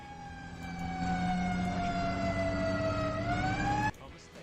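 A fire engine siren in the Emergency 4 game with an Ocean City modification wails loud and steady, slowly dipping in pitch and then rising before cutting off abruptly near the end, with faint background rumble.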